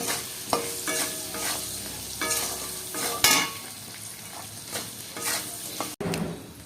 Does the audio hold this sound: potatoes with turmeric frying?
yes